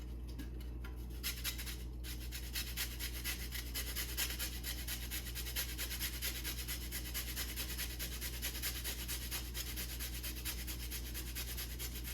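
Lime zest is grated, a soft, rhythmic rasping and rubbing that repeats evenly for around twelve seconds over a steady low hum.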